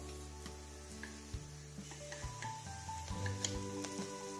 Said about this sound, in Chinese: 全部翻完继续煎，偶尔给它反一下面